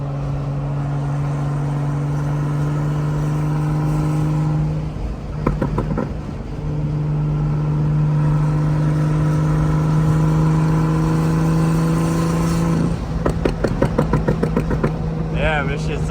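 Big-turbo BMW M535i engine pulling through the revs on a drive, a steady droning note that climbs and drops with gear changes, with sharp crackles and pops from the hood-exit exhaust as the throttle lifts.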